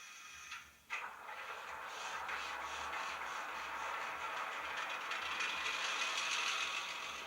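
N scale Con-Cor E9 model locomotive fitted with an ESU LokSound decoder starting up, a mechanical clank followed by a steady, loud diesel engine drone that holds for several seconds with no talking.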